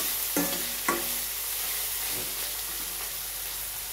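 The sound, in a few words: onions frying and being stirred in a pan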